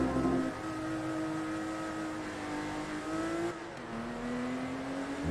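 TVR Tuscan S race car in Forza Motorsport 2 launching from pole at a race start, its engine revving hard and climbing in pitch with a gear shift midway, loud and close with no talk.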